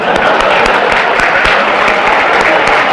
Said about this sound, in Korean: 가운데 지금 노란색 입으신 분을 위해서 박수를 쳐드려야 돼요